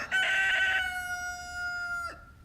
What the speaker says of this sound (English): Ignore the roosters. They're constantly crowing because I have 19 of them.